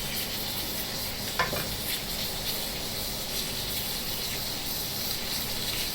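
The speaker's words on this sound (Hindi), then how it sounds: "मैं यहाँ पे थोड़ा सा इसमें ऑलिव ऑयल डालूंगी" Olive oil poured into a pan set back on the stove for homemade granola, giving a steady, soft sizzling hiss throughout with a brief clink early on and no talking.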